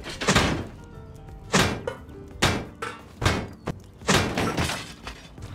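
Repeated heavy melee strikes smashing red oil barrels in the survival game Rust, six loud hollow thunks with a metallic crunch spaced about a second apart, close and alone with no talking.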